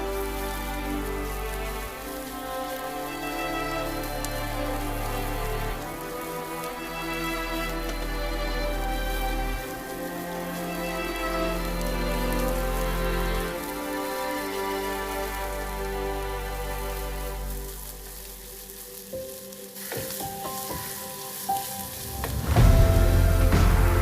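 Onion sautéing in a pan with turmeric and chili powder for a yam masiyal, a soft, continuous sizzle heard beneath steady tonal background music, with a few clatters near the end.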